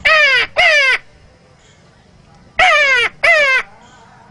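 Someone mimics a hill crow with hoarse, harsh caws delivered close and loud in two pairs, each pair of paired calls separated by a quiet gap of over a second.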